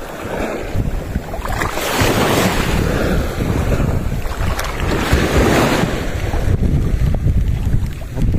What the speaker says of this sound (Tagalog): Kakahangin. Tama, huwag kang mahangin.